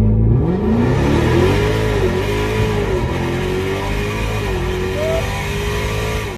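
A Dodge Demon 170 on a drag strip accelerates hard, its loud, close engine note climbing and dipping through shifts in one continuous high-power run.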